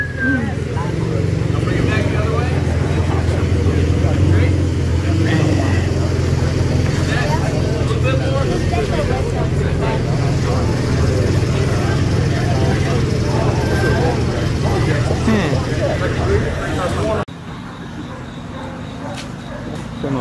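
A Porsche arriving at an exotic car show, a steady low engine rumble mixed with crowd chatter and people talking nearby, then an abrupt drop to quieter background near the end.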